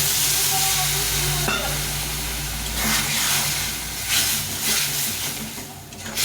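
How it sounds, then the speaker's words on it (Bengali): A paste of ginger, cumin, chili and garlic cooks in a pan with added water, giving a loud, close hiss and bubbling sizzle that later turns into uneven bursts of steam and stirring. "আদা জিরে লঙ্কা আর রসুন বাটা এটা দিয়ে দিলাম এখন একটু জল দিয়ে এটা কষিয়ে"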